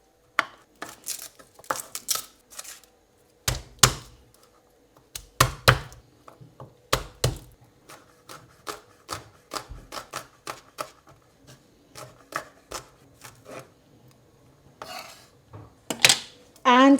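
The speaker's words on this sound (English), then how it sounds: "So I'm going to start with 3 nice chunky garlic cloves. Just going to thinly slice them." A knife thinly slicing chunky garlic cloves on a cutting board, crisp sharp taps coming in quick bursts with short pauses between, close and clear with no voices.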